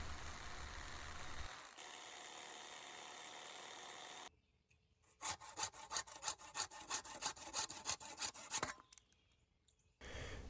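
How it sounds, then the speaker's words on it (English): A jigsaw buzzes briefly through knife handle material, then a handsaw takes over with a rhythmic run of loud, close back-and-forth strokes while roughing out the shape, ending in a short pause. "Here I'm just using a jigsaw and then a handsaw to finish roughing out the shape."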